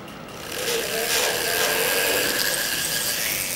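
Metal being hand-filed during a metalsmithing rivet demonstration: after a short quiet start, a loud, continuous rasping scrape carries on steadily to the end.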